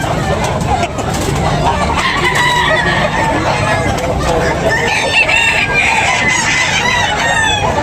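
Several roosters crow and hens cluck amid a busy outdoor din, with people talking and vehicle noise in the background.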